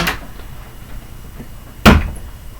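A door slammed shut indoors gives one sharp, loud wooden bang near the end, preceded by a fainter knock at the start and quiet room noise.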